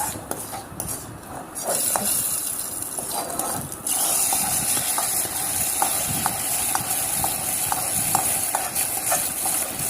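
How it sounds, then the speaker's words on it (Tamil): Hot tempering is poured into chow chow kootu in a pan, with a steady sizzling hiss throughout and regular light clinks of a spoon stirring against the pan, close and continuous. "நம்ம தாளித்து அந்த கூட்டில் நம்ம ஊற்றிக்கலாம்"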